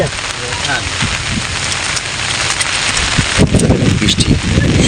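Heavy rain pours outdoors during shrimp fishing with nets in the monsoon season, a dense continuous hiss with louder patters and splashes building toward the end.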